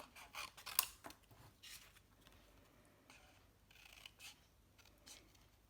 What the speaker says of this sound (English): now comes the fun part, the fussy cutting